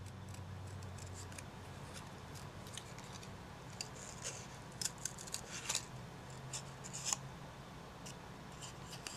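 Scissors snip a small blue section out of a paper tag: quiet, close cutting with scattered sharper clicks over a soft steady background hum.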